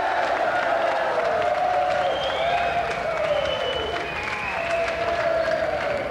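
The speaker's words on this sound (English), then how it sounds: "And another round of applause for Pat and Emily Cash." Steady studio audience applause on a video games TV show, continuous dense clapping with cheers and whoops over it, held at an even level throughout.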